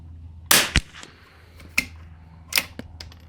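A rifle in a WOOX Cobra Precision Tikka stock firing CCI ammunition, giving one sharp crack, followed by several lighter metallic clicks and clacks from working the action, close by, with no voices.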